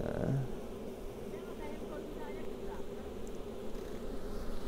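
Honey bees hum steadily from an opened beehive being split to make an artificial colony, a dense continuous buzz throughout with a brief bump of handling noise at the start.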